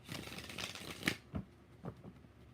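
Tarot cards being shuffled by hand, a soft, faint riffling rustle followed by a few light taps and slaps of the deck, close by and quiet.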